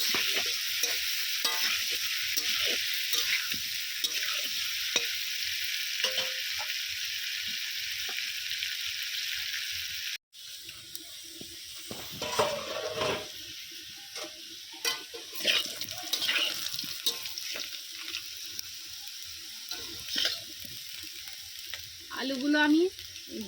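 Potato pieces seasoned with turmeric and salt fry in hot oil in a kadai, a continuous loud sizzle with scraping stirs, growing more uneven and clattery after a brief break midway.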